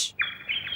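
Cartoon birds give a quick pair of bright, high chirps in under a second, clear and close with no talk.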